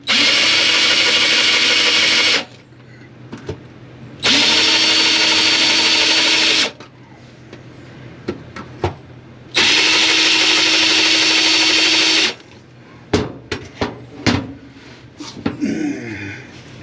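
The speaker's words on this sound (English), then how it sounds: "We're just going to pilot the 4 holes we need." A power drill bores pilot holes in wood, running in three loud, steady bursts of a couple of seconds each, separated by pauses filled with handling clicks and knocks.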